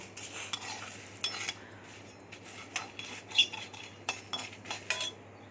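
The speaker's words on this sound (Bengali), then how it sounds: "হালকা আঁচে এটা ভাজতে হবে নালে পুড়ে যাবে তো আমি শুকনো লঙ্কা জিরে আর ধনেটাকে আমি ভেজে নেব" Dried red chillies, cumin and coriander seeds dry-roast in a pan over low heat, with faint rustling and intermittent light clinks and scrapes of a spoon stirring them, fairly quiet overall.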